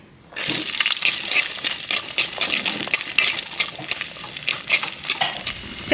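About a hundred grams of small shallots hit hot oil for a roasted-coconut chicken curry, setting off a loud, steady, close sizzle and crackle that runs throughout with no talking.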